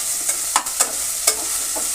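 Drumstick pieces stirred in a hot pan with onion paste, green chillies and turmeric for a Telugu taro root stew, several sharp spoon scrapes over a continuous sizzle, close and loud with no speech.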